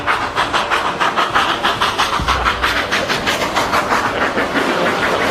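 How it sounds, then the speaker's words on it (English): A train climbing a Colorado mountain passes close by with a rapid, regular clickety-clack of wheels over rail joints and a steady rushing roar. "the train is about to pass me"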